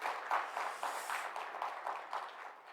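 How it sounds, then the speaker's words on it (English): Conference audience applauding a speaker, a steady wash of many hands clapping at moderate distance for a few seconds, no voices over it. "Let's please give him a big round of applause"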